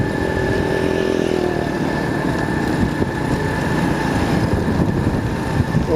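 A motorbike cruises slowly along a rural road between Kotli Loharan and Kharota Syedan in Sialkot district, its steady low engine drone and rumble running continuously and close with wind noise, no talk.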